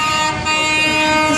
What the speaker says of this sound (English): we got the trucks honking for us over here